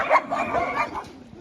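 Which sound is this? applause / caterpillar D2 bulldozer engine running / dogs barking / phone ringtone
dogs barking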